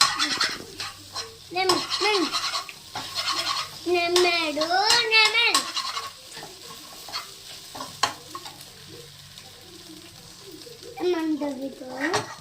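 An egg fries in a pan during fried rice cooking, a steady sizzle with stirring and utensil scrapes beneath, while a voice and other voices talk over it at intervals.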